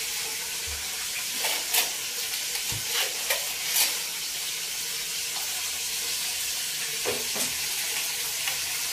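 A pot of Vietnamese fish soup made with snakeskin gourami at a rolling, foaming boil, a steady bubbling hiss with occasional clinks of a utensil skimming the foam.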